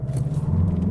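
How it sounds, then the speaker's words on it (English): A 2025 Mazda3 Turbo in sport mode with traction control off launches from a standstill, its engine a steady, deep, close rumble for about a second while the tires briefly spin. "A little bit of wheel spin."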